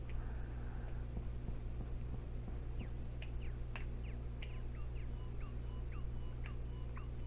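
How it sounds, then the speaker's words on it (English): Birds chirp in Terraria, a video game, with quick, faint repeated chirps over a steady low background hum and scattered clicks, continuing throughout. "Birds. I hear birds."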